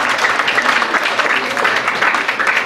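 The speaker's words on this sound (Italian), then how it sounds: "Facciamo un applauso." Audience at a literary prize ceremony breaks into steady, dense applause, loud and close, many hands clapping continuously throughout.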